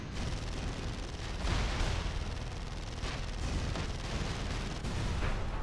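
Heavy tank cannon fire and explosions in Tribes Ascend make a dense, loud, continuous booming roar with repeated blasts layered over a rumbling low end.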